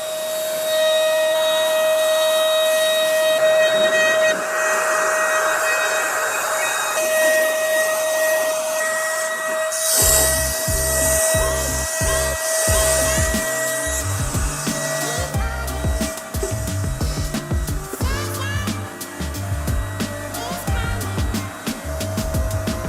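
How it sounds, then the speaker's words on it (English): A paint sprayer in a basement screen printing studio gives a steady, loud motorized whine and hiss that runs throughout, with clattering and music-like tones mixed in during the second half. "I like a paint sprayer."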